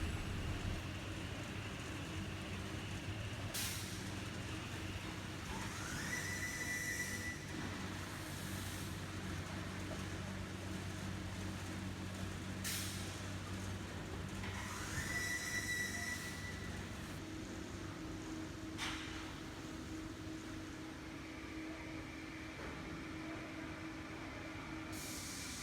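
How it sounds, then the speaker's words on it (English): An automated MGO board production line carries cut panels into a cage vehicle, giving a steady mechanical rumble with repeated squeals and clanks from the conveying equipment, moderately distant and with no speech. "After cutting, the MGO board will be transported into the cage vehicle automatically."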